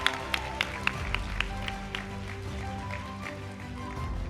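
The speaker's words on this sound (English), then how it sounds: "Let's give her a round of applause." Applause for a top graduating student at an SMU business school postgraduate commencement ceremony, heard as scattered distant clapping in a large hall. A few sharp individual claps stand out over a low background hum, fading gradually.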